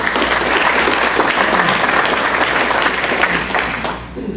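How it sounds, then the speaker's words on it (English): An audience at a Rotary Club of Charlotte meeting breaks into sustained applause for several seconds, steady and fairly loud, then tapering off at the end. "let's give it a round of applause"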